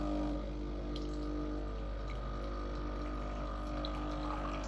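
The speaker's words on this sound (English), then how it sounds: "I'll press the double button. It's gonna give me about 100 mils of hot water." Breville Barista Express BES870 espresso machine dispensing hot water into a cup, a steady pump hum with a low mains drone and a soft stream of water, continuous and fairly quiet with no talking.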